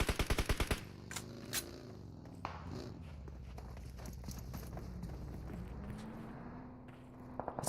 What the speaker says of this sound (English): But of course now Lens and Hound trying to put in a few shots of their own.